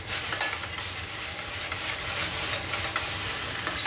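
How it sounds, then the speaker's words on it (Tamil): Chow mein noodles are tossed in a very hot kadai in a Hong Kong style stir-fry, with a loud, continuous sizzle broken by soft rhythmic swells as the noodles are flipped. "நம்ம வந்து நல்லா கொஞ்சம் டாஸ் பண்ணிப்போம்."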